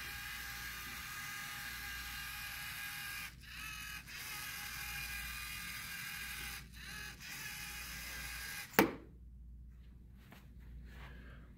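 A competition robot mechanism runs its program on a Hydrodynamics mission table, giving a steady whirring, ratcheting motor drone with a couple of brief pauses, a sharp clack near the end, then quieter faint clicks.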